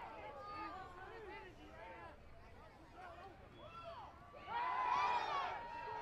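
Football fans at a USF game against Morningside rumble as a distant crowd in the stands, the noise swelling louder near the end beneath overlapping commentary voices.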